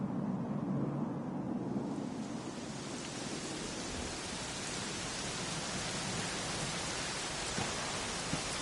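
Steady heavy rain in the video game Dragon Quest XI S pours down in a dense, hissing wash, constant and enveloping throughout with no voices.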